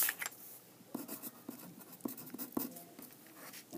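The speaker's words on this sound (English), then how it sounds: "you turn it to the back and write your name." A name being written on the back of a sheet of paper with a pen or pencil, producing quiet, close scratchy strokes in short repeated bursts over a soft background, no voices.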